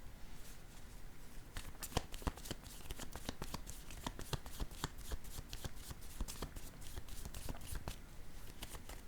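A deck of association cards being shuffled, a steady stream of crisp, riffling card flicks that runs close and evenly throughout, with no talking.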